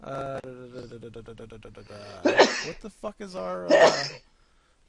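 Two sharp sneezes burst out between stretches of talking, loud and close, the second about a second and a half after the first.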